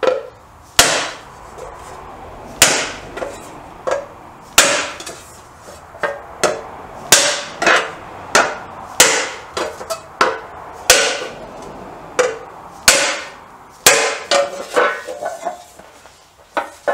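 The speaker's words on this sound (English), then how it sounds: "We get the bigger hammer, I think." A bigger hammer striking metal on a Triumph 500 motorcycle restoration, about twenty sharp, ringing blows at an uneven workshop rhythm with short pauses between groups. Loud and close, with no talking.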